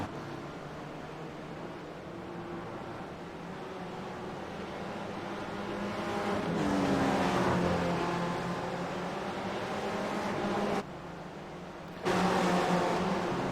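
Race cars circle the Spa circuit in a racing video game, their engines forming a fairly faint continuous drone. The drone swells midway, drops out briefly near the end, then returns.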